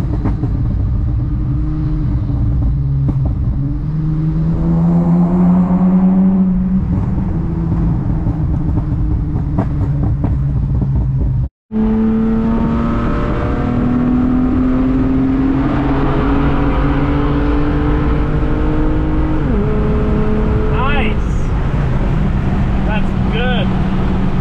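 A tuned Acura TL Type-S revs hard through a full-throttle pull, the engine note climbing steadily through the gears with a brief break at a shift, loud and close, with voices talking over it.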